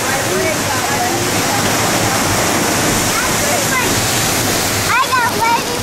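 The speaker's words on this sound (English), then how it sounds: "here we go through some rapids" Raft ride at Walt Disney World's Animal Kingdom, Kali River Rapids, plunging through rushing rapids: a loud, constant roar of churning water with people's voices and shouts mixed in.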